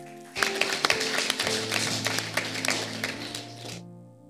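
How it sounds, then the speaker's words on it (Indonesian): Applause and scattered clapping from a church congregation during a Pentecostal sermon, a dense burst of many hands lasting a few seconds with sharp individual claps standing out, then stopping abruptly. "Tepuk tangan."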